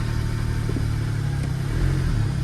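A Smart Roadster car, bought as a non-runner, pulls away as its engine hums at a steady mid pitch, heard close and fairly loud with no talk.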